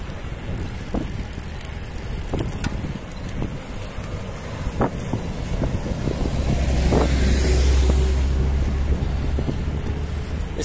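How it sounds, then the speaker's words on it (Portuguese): Cars passing on a rural road heading toward Maceió, Palmeira and Atalaia, a steady roar of traffic with a vehicle swelling past in the middle amid wind buffeting the microphone. "Esses carros que estão vindo aí, ó."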